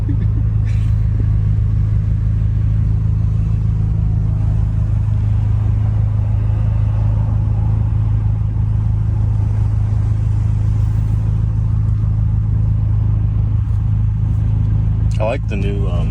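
A car engine rumbles loudly and steadily at a big Cars and Coffee show in Texas, a deep sustained idle with revving, close and continuous, with people talking over it.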